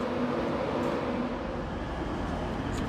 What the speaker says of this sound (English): it's now time to take a look at this Class 91 before our train back to York.